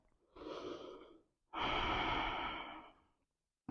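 Deep breathing during a yoga vinyasa flow: a soft inhale and then a longer, louder exhale that lasts over a second, both close and clear with no talking.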